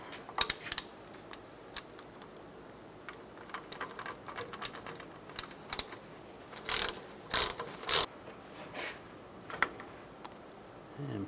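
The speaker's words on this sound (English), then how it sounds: "Using a 10 millimeter hex socket, we're going to take these caliper bolts out." A ratchet with a 10 mm hex socket clicks in scattered bursts while loosening brake caliper bolts on a 2007-2014 Chevy Silverado 2500 HD, with quick pawl ticks and a few louder metallic clanks near the end.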